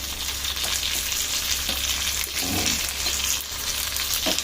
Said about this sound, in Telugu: ఈ విధంగా మారినేట్ చేసి పెట్టుకున్న పాంప్లిన్ ఫిష్ని ఇట్లా మనం షాలో ఫ్రై చేసుకోవాలి